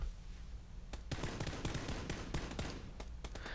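Rapid bursts of distant gunfire in the battle royale game PlayerUnknown's Battlegrounds, several overlapping cracks and volleys crowding together after a short quiet start.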